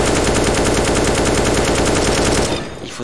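A continuous automatic weapon spray in CS:GO, a loud, rapid, evenly spaced burst of gunshots that stops abruptly near the end and leaves a short tail.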